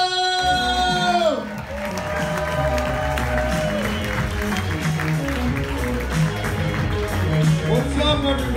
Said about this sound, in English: A round of applause for my friend, Jesus